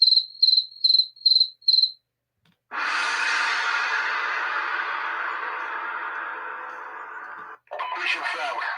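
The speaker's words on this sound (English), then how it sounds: "Cricket's loud. Crickets be outside like that, man." Five evenly spaced, high cricket chirps ring out clearly outdoors, then give way to a long, broad hiss and a rustling burst.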